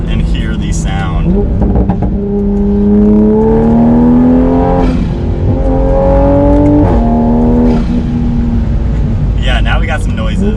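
A tuned Toyota Supra A90 with a straight-pipe exhaust pulls hard under boost, its loud engine note climbing and swelling through several surges while people talk briefly at the start and end.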